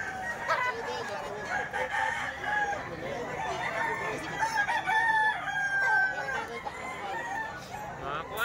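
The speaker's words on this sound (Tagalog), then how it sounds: "Mga quality manok." Roosters crow and chickens cluck close by, a faint murmuring backdrop of farm birds.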